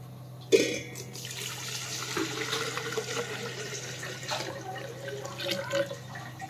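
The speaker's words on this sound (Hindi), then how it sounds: "तो पहले नॉर्मल पानी डाल देते हैं।" Room-temperature water poured into a container in a home kitchen while cooking holiday dishes, a soft steady trickle and splash after a brief knock at the start, faint with a low hum behind it.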